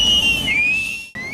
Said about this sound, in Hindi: लोगों की तेज आवाज वाली सीटी